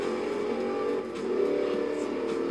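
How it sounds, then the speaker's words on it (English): A car engine revs steadily in the driving game Forza Horizon 2, a continuous mid-loud drone during a tornado-chasing run, the pitch dipping slightly then climbing again, with no voice over it. "Oh, I like this engine. Sounds very good."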